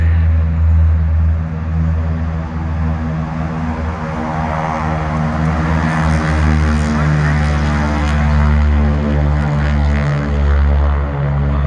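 Deep, continuous roar of Pratt & Whitney R1340 radial aircraft engines, 600 horsepower each, at close range during a night air show, loud and throbbing throughout with no break; no talking.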